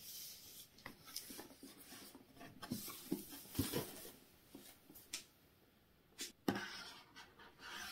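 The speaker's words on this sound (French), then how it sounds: "je vais déballer les éléments du micro" Parts of a Rode NT microphone being unboxed, with close, quiet rustles, rubs and scratches of cardboard and packaging, plus a few soft taps and crinkles at irregular moments.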